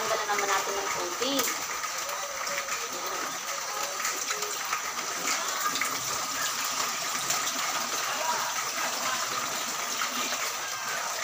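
Salted soaking water being drained and rinsed off bitter melon (ampalaya) in a kitchen, a continuous gushing, splashing pour of water that holds steady throughout.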